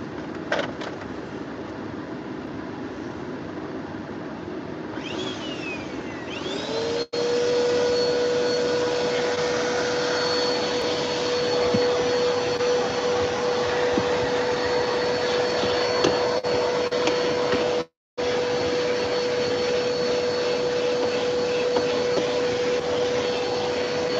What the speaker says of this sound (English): Y'all gonna hear my vacuum come on.